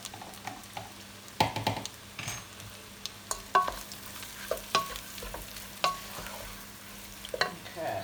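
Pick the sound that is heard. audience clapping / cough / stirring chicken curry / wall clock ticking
stirring chicken curry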